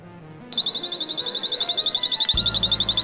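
A personal pocket alarm clipped to a handbag shrieks as the bag is snatched, a loud, rapidly warbling electronic siren that keeps pulsing steadily over faint background noise.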